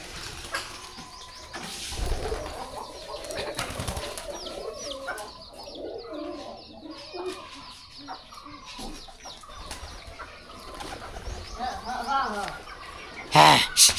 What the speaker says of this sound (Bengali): আর এই কবুতরটা, এই পায়রাটা ওই সারাক্ষণ ওই বাইরে পিছে পিছে ঘুরে।